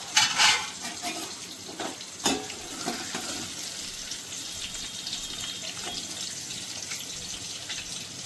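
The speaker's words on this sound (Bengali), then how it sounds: "আমি এইভাবে করে সব পুরো চিকেনটা আমি ভেজে নিই" Chicken pakora pieces fry in hot oil for a butter garlic chicken recipe, giving a soft, steady sizzling hiss with a few faint clinks of utensils early on and no talking.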